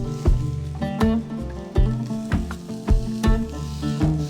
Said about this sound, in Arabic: حطينا الرنجه عشان تتشوي على الجريل